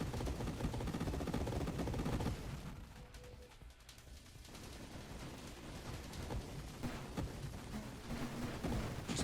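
Splinter darts firing in the space shooter Nova Drift: a dense, continuous stream of rapid crackling shots that thins briefly in the middle, then builds back to a steady barrage.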